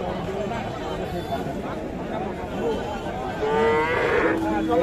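A heifer calf moos at a busy cattle market, its drawn-out calls rising clearly near the end over a constant din of crowd chatter and bargaining voices.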